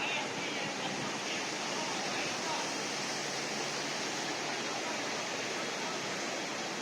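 Hot spring water gushing from a pipe at a natural thermal valley in Taiwan, a steady, broadband rushing roar that holds constant throughout without pauses.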